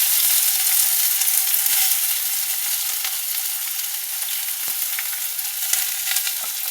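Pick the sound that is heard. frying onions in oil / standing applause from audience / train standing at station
frying onions in oil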